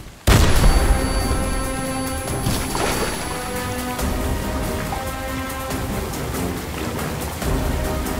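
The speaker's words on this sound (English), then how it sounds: "A grenade!" A grenade explodes in the shooter game Bright Memory Infinite, a sudden loud close blast that decays into a long crackling, debris-filled rumble over sustained game music.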